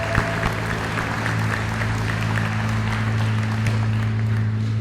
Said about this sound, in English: So can we have a round of applause for Chief Galen Wilson?